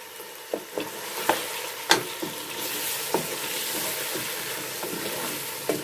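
A biryani mixture with salt fries in a pan and is stirred, giving a steady sizzle broken by about a dozen sharp scraping strokes of the spoon at an uneven rhythm, close and moderately loud.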